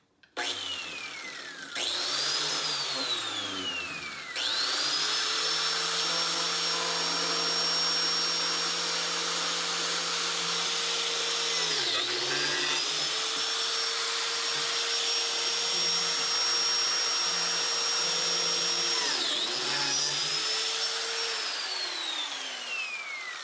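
A biscuit joiner's motor whines loudly as the blade cuts a biscuit slot in wood, spinning up and dropping several times across a long, steady close-up run.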